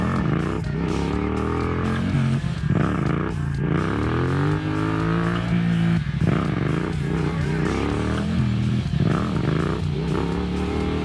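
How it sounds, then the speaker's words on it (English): A 2022 Yamaha MT-07 motorcycle revs hard and continuously during slow first-gear wheelies, its engine rising and falling with throttle blips, loud and close throughout. "started working on the slower wheelies in first gear"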